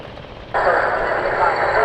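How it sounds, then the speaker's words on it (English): An AW101 Merlin helicopter suddenly roars in close and loud on a display flypast, a steady, harsh whooshing drone that holds until the end. "Final pass then from the 14th Air Force's AW101 Merlin, Mark 514."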